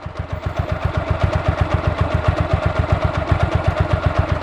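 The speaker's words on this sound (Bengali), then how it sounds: "আরপিএম আইডেলে এরকম স্টার্ট মানে অন করে রেখে দেখবেন যে কোনো টাইপের সাউন্ড আছে কিনা" Second-hand motorcycle engine idling nearby, a loud, even, rapid thumping beat with steady mechanical clatter and no voices.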